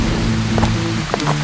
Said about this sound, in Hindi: लगता है बारिश और तेज होने वाली है